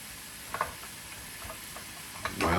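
Ground meat seasoned with salt, pepper and garlic browning in a pan, a soft steady sizzle with a few scattered ticks and pops and a louder stir or scrape near the end, heard close up without voices.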